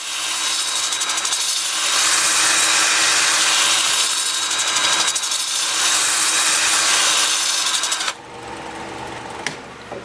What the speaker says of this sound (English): So, time for sanding.